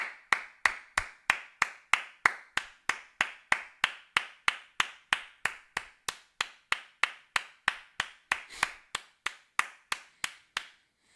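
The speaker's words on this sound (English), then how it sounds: "Let's give a round of applause." A single pair of hands claps steadily in a regular rhythm, about three crisp claps per second, close and dry with no other sound around them.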